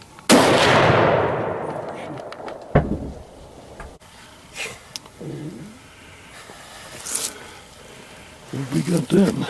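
A deer hunting gun fires a single loud, close blast with a long decaying boom, followed by a sharp clank, scattered handling noises and people talking afterward.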